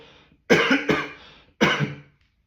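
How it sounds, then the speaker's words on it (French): Three harsh coughs close up, the first two back to back and the third after a short pause. "si vous m'entendez tousser dans cette vidéo, veuillez m'excuser"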